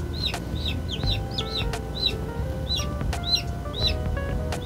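High, repeated peeping chirps from a newly hatched chick, several calls in quick succession over a low background hum.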